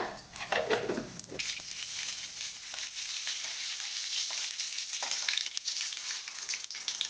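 Mustard seeds and cumin sizzle in hot oil, a continuous crackling hiss with scattered pops that stays fairly quiet and steady.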